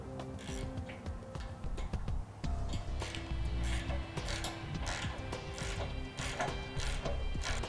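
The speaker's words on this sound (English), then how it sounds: "Now we'll tighten up the two bolts on the end of the swing away here" Bolts are tightened on the swing-away arm of a Rampage rear recovery bumper on a 2012 Jeep Wrangler. A ratchet clicks in rapid repeated bursts over faint mechanical rattles and a low background hum.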